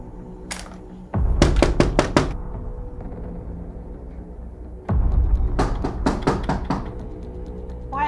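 Heavy knocking on a house door in two loud bursts of about five or six rapid thuds each, separated by a pause, over a steady low background hum.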